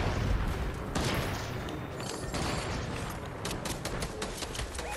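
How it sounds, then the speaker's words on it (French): Bursts of gunfire in the Fortnite video game, a dense volley at the start followed by scattered rapid shots and clicks, loud and close, with no talk over it. "Ah, son pote, il m'a tiré dessus"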